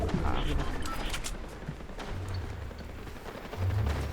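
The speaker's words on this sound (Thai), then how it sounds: "โอ้ยิงกันยับเลยอะ" Fast, dense video game gunfire rattles in bursts under a quiet voice, with intense volleys at the start and a steadier stretch of shooting after that.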